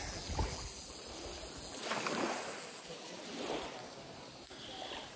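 Waves wash onto a tropical island shore in Thailand in soft, repeated surges, mixed with a steady rustling hiss of jungle foliage in the background.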